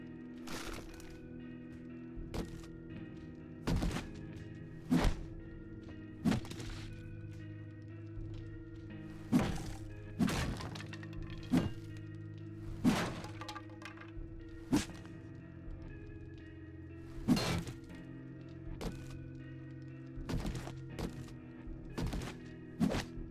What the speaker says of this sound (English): Auger to the rescue.